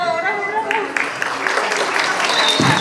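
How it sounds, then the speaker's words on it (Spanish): Applause and cheering at a family baptism celebration in Huancayo, swelling from about one second and continuing steadily to the end, mixed with crowd noise and an announcer's voice early on. "Y las fuertes palmas"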